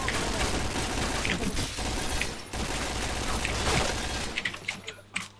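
Rapid gunfire in the shooter game Point Blank, a dense loud stream of shots and impacts that briefly breaks off, then returns and thins into scattered bursts near the end, with a voice faintly underneath.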